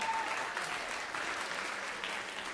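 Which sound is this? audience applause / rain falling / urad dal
audience applause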